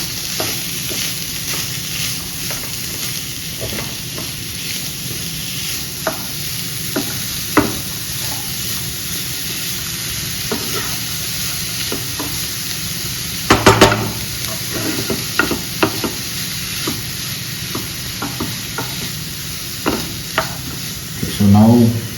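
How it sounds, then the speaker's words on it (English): Chicken crepe filling sizzling in a hot pan while being stirred, a constant frying hiss with scattered scraping and clacking of the utensil, growing busier toward the end. "Mix everything."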